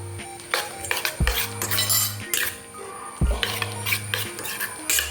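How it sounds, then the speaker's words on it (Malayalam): A utensil scrapes and clinks against a pan while beaten egg mixture is stirred, giving repeated metallic knocks and scraping strokes over a steady background hiss. "നമുക്ക് നല്ലോണം ഇതൊന്ന് ഇളക്കട്ടോ."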